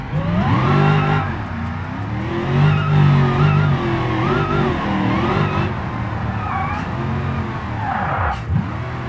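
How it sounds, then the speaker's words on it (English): Car engine in the BeamNG driving game revving hard under heavy throttle, a loud sustained drone with rising and falling pitch and brief tire skids, continuous throughout with no talking. "I got a little heavy on the throttle there."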